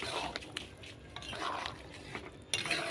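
Boiled chicken being stirred with coriander leaves in a pot during a rooftop picnic, with irregular scrapes and clinks of a utensil against metal, wet shuffling and a sharper knock near the end, all fairly quiet and close.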